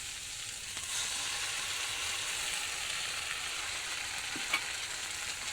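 Spice paste poured into fried onions in a hot pan, a continuous bright sizzle and frying hiss heard close up, with a faint stirring scrape and one small clink near the end.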